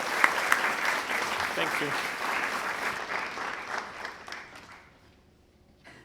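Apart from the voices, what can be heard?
audience applause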